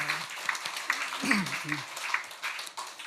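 A church congregation applauds the choir during a Sunday worship service, with scattered clapping under a voice that speaks through most of it.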